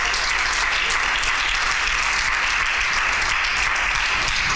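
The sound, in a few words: applause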